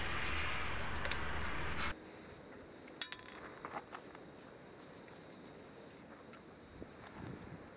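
Degreaser is scrubbed onto a Wheel Horse 704 engine block with a close, loud, steady rubbing for about two seconds, followed by quiet clinks and light handling.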